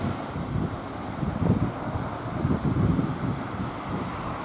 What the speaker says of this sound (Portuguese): Ó, o vento ainda.